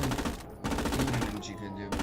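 Machine guns fire in the tank game Gates of Hell, a dense, continuous rattle of rapid shots with short pauses, fairly quiet overall and set in battle noise.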